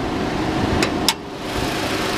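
A 2012 Nissan Rogue SV with a 2.5-liter inline four-cylinder engine idles steadily nearby, a constant mid-pitched hum broken by a couple of brief clicks or knocks.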